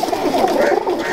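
Pigeons, including females kept for flying, coo softly and continuously at close range in a short, steady murmuring burst.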